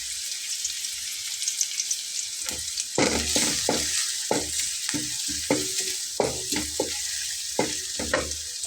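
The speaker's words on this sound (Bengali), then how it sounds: "পেঁয়াজটাকে কিন্তু খুব বেশি ভাজা লাগবে না জাস্ট একটু পেঁয়াজের হালকা একটু ভাজা করবো" Onions fry lightly in a pan for a small-fish curry, a steady high sizzle under repeated scraping and stirring strokes that come in irregular bursts.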